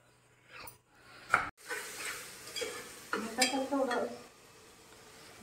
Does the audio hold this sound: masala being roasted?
yes